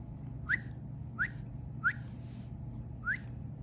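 Four short rising whistle chirps, evenly spaced and fairly faint, over a low background hum.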